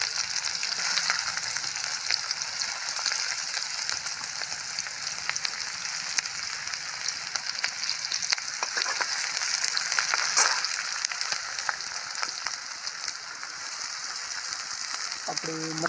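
Chopped onions fry in a pan of oil after mustard seeds have popped, producing a continuous loud, hissing sizzle with scattered crackles that holds steady throughout.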